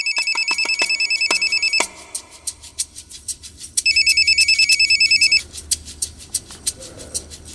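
A telephone ringtone rings in loud repeated electronic trills, two long bursts separated by a pause, with quieter thumps and background noise between them, in a Crime Patrol crime drama scene.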